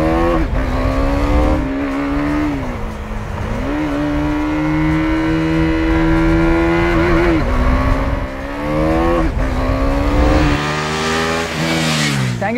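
A 2017 KTM Duke 390 motorcycle being ridden, its engine loud and close as it revs up and down through the gears, with rising and falling pitch sweeps and no voices.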